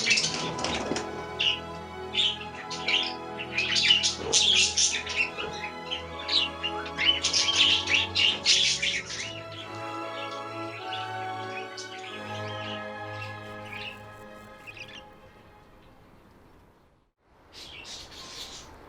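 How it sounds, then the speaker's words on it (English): Budgies and cockatiels chirp and tweet busily in a home aviary, a dense overlapping chorus of bright calls that thins toward the end, pauses briefly, then resumes. "I have 17 budgies and 2 cockatiels in this aviary"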